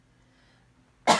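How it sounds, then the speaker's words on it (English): A single short, sharp cough bursts out at the very end after near silence, close and loud. "I still have a little bit of a cough."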